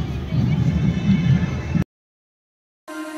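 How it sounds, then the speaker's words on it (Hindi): Crowd noise at India Gate on Kartavya Path: a close murmur of many voices runs for nearly two seconds, drops to a brief silence, then gives way to the start of music. "पूरा क्राउडेड है इस टाइम पे।"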